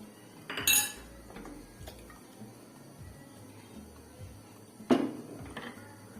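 A lid set on a pot of Moroccan rice with meat and vegetables, heard as two short metallic clanks of pan and lid against a quiet kitchen background.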